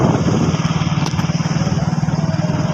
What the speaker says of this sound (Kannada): ಬೈಕ್ ಮ್ಯಾಗ ಹೊಂಟಿದ್ದೀವಿ ರೀ.